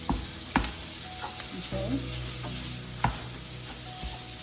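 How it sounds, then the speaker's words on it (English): Meat sizzles steadily in a pan while Chinese food cooks, with a few sharp clinks and scrapes of stirring over the constant frying hiss and a brief spoken word. "While that's sizzling, I'll even lower it a little bit."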